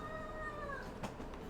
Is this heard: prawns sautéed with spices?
no